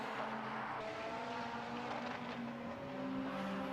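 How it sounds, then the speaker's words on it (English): Caterham race car accelerating out of a hairpin at the Knockhill circuit during a time attack event, a steady, loud engine drone with rising pitch held throughout. "Here comes the Caterham out of the hairpin"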